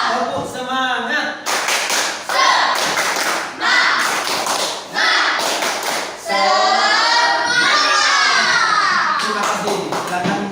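A group claps together in a quick, lively rhythmic pattern of Indonesian "tepuk semangat" spirit clapping at a teacher training session, with bursts of loud unison clapping between shouted chanting voices.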